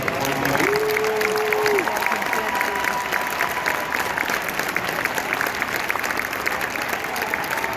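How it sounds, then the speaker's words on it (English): Applause from the crowd at a high school marching band show, a steady, sustained wash of clapping and cheering that holds at an even level throughout, with a brief tone early on. "Can we have a huge round of applause for all of you Disney Marching?"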